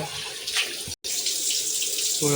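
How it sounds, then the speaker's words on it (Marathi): Water splashes steadily into a cooking pot for prawn and potato curry, a close continuous pour broken by one brief cutoff. "पाणी टाकलं"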